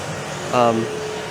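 A vacuum cleaner hums steadily in a gym, a constant whooshing drone heard briefly while a person speaks over it.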